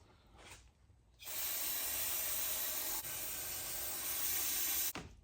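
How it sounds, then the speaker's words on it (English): Aerosol brake cleaner sprayed onto brake parts of a 1985 Honda ATC70 three-wheeler, one long loud continuous hiss of about four seconds that cuts off sharply, with a faint rattle just before it. "we're about to get crazy on this stuff with a little brake clean action"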